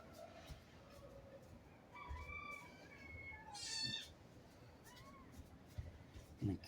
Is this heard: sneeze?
no